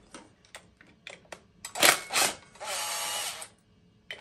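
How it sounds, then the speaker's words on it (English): Bolts being loosened from the brake disc of an electric scooter: a few short ratcheting clicks, then two strong bursts and a sustained whirring run like a power driver, close and fairly loud. "to take the brake disc off, just lose all the bolts from the brake disc"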